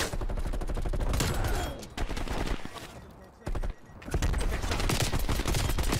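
Pistol gunfire in the video game Call of Duty Cold War cracks in rapid, close bursts, breaking off for a moment and then resuming, with dense combat noise around it.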